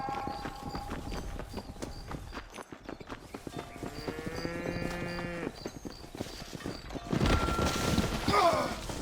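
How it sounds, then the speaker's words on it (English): Cattle lowing in Red Dead Redemption, a drawn-out harmonic moo in the middle among steady clip-clopping hooves, with a rising rush of movement near the end. "Just get them cattle back safe."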